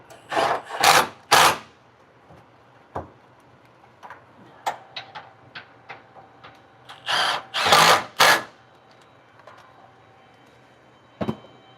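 Power drill tightening a bolt while installing Firestone air bags on a 2017 Ford F-250, heard as several loud close bursts of whirring with short ticks and clatter in between and no talking.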